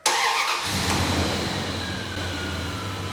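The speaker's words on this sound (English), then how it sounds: "get in the car, start the engine, and try out different gears" A car engine catches and settles into a steady idle, loud and close, with a brief burst at the start of a driveway transmission fluid flush job.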